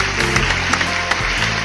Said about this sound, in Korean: 여러분 다시 한번 큰 박수로 이 행사를 빛내주십시오